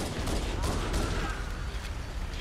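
Covering gunfire in Halo: Combat Evolved, a dense burst of rapid shots and impacts that is loud and close, with no speech heard.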